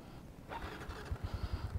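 Honda Wave RSX motorcycle with a racing seat, its engine idling close by with a steady low putter that picks up into quicker rhythmic pulses, no talking.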